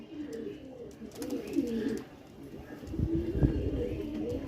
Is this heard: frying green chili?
no